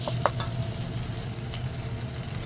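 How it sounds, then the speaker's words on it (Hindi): Minced meat keema browns in a frying pan for aloo keema, giving a steady close sizzle with a few light stirring scrapes and no talking. "हम कीमे को ब्राउन कर रहे हैं।"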